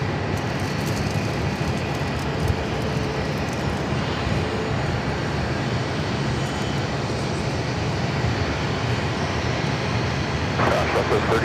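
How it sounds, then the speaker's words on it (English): An Airbus A319 airliner taking off at Phoenix, its engines a loud, steady roar that holds evenly for the whole stretch, with a slight swell near the end. "This 319 is going to be taking off to San Antonio,"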